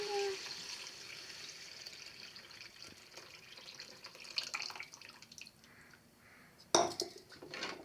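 Squeezed tamarind water poured into a vessel for rasam, a soft trickling and dripping with light clinks of kitchenware, quiet and close, ending in a sharp knock near the end.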